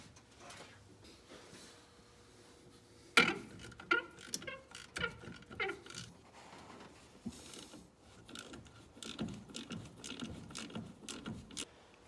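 Metallic clicks and ratcheting clatter from a wrench working on the brake line nuts of a Dodge truck during a master cylinder replacement, with one sharp louder clank early on and then irregular clicking and scraping, close up and without talk.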